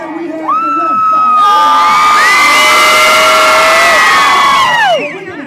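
Loud crowd cheering, whooping and shouting at a zombie crawl event in Wichita Falls, Texas, rising into a sustained roar of many voices with high yells and screams, then falling off after about five seconds.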